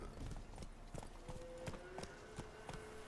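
Steady clip-clop of horse hooves in The Witcher 3, a regular walking rhythm of moderate loudness over a constant ambient bed, with a faint tonal drone alongside.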